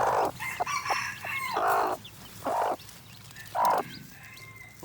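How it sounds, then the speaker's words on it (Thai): Newly hatched red junglefowl chicks give repeated high peeps in several short bursts, with an adult hen clucking nearby on a farm. "ลูกไก่น่ารักเลย"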